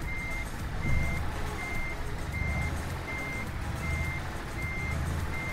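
Reversing alarm of a truck in Euro Truck Simulator 2, steady evenly spaced beeps repeating over a constant low engine rumble, with no talk.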